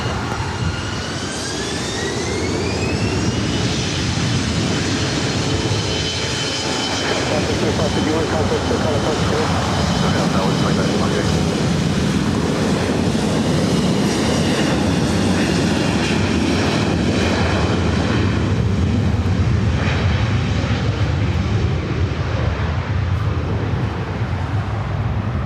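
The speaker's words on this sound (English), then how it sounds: "Clear land 24 right, we're down to approach speed, SkyWest." A SkyWest Embraer E175 jet roars on its landing approach at LAX, a sustained loud engine whine with rising tones early on, steady throughout and slowly fading at the end.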